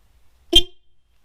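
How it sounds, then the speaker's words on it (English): A horn newly fitted to a Yamaha Virago XV750 motorcycle gives one short, loud honk of about a quarter second, standing out against near silence. "It's actually much louder than the truck style horn."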